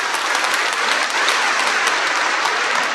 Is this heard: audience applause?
yes